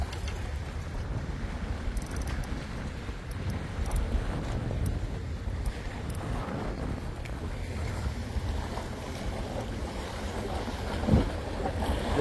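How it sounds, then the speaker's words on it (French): Sea waves break steadily on the shore during seaside fishing for sea bream, a continuous wash of surf mixed with wind noise, fairly faint and without talk. "Les vagues montent à gauche"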